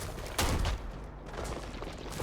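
Enemy fire from poison-puck guns in a video game: a sharp, loud burst of shots near the start, then a dense, steady crackle of gunfire that carries on to the end.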